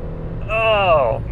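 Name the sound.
2011 Kia Soul manual accelerating hard with wheel hop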